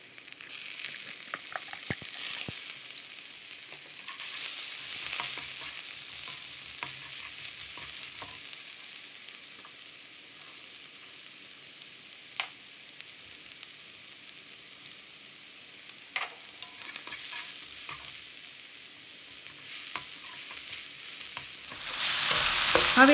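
Onions fry in about two spoons of hot oil in a kadai for a gobi manchurian sauce, a continuous hissing sizzle with scattered small pops and occasional utensil clicks, steady and close throughout.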